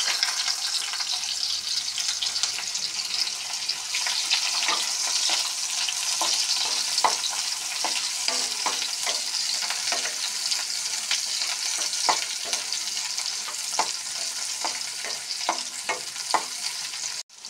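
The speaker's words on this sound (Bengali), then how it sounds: "তেলটা হিট হয়ে আছে, এখন দিয়ে দিচ্ছি পেঁয়াজ।" Onions frying in hot oil in a wok crackle in a loud continuous sizzle, close by, with frequent small pops and light stirring clicks throughout.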